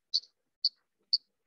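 Three sharp, isolated clicks spaced about half a second apart, crisp and bright, like slow keystrokes close to the microphone.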